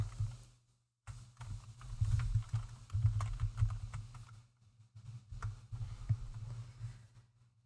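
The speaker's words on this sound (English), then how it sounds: "I have a rather noisy keyboard." Fast, uneven clacking of a noisy computer keyboard being typed on up close, bursts of keystrokes with short pauses between, no talking.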